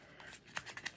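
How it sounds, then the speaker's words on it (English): A sheet of cardstock paper being crumpled and balled up by hand gives a few quiet, crisp crackling bursts close by. "I'm just crumpling, like literally balling up,"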